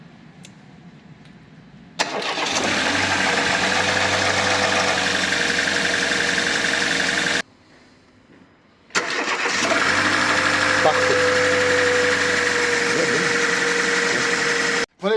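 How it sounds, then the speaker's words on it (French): A Mercedes A-Class W169 engine starts and runs at a steady idle up close, warming up, cuts out briefly, then restarts and idles again; a short word is spoken. "je vais laisser un petit peu tourner le moteur parce que moi j'aime pas éteindre le moteur quand il vient d'être démarré à fond"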